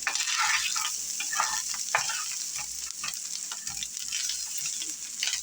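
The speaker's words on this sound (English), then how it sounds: "We got that onion browning pretty good." Chopped onion sizzles and browns in a frying pan, a loud steady crackling hiss with occasional stirring scrapes, heard close up without talk.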